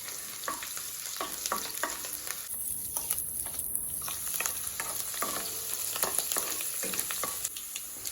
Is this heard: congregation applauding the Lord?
no